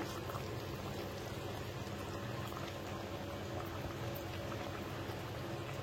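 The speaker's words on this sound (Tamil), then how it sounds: "இப்போ பாருங்கள் எப்படி சலசலன்னு கொதிச்சிட்ருக்கு" A pot of fish curry bubbling at a steady rolling boil, a dense continuous simmering hiss close by, with no voices.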